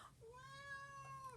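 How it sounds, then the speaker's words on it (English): A house cat meows once in a drawn-out, rising-then-falling call, fairly close but soft, with a quiet room behind it. "Yes, this is my cat."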